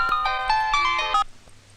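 A mobile phone ringtone plays a bright, melodic electronic tune loud and close, then cuts off abruptly after a little over a second, followed by near silence with no talk.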